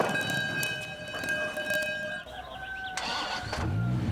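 A Dodge Viper SRT-10's 8-litre V10 engine cranks and catches, then revs with a deep, rising roar, heard up close without speech.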